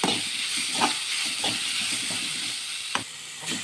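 Masala paste heats in a pan with a steady, close frying hiss, punctuated by a few soft scraping stirs and small pops.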